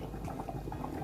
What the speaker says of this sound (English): So here our rice, it has been boiling for 10 minutes.